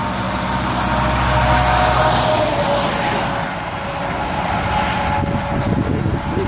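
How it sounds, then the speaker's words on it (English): A small truck rumbles past on a narrow one-lane country road, a loud engine and tyre roar that builds, peaks and then recedes as it moves away. "Here comes one now, I don't know if it's a small truck"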